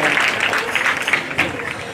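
A crowd at a Ram Katha gathering on the fourth day, during the Ram wedding episode, breaks into loud, dense clapping that rises and falls in a steady wash of applause.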